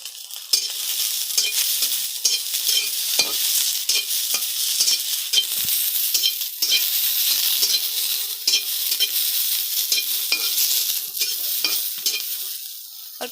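Green chillies fry in a pan with a bright, crackling hiss, punctuated by frequent quick scrapes and taps of a spatula stirring, loud and close with no talking.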